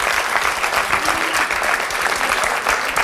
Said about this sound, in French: On peut applaudir le sergent Anne-Sophie.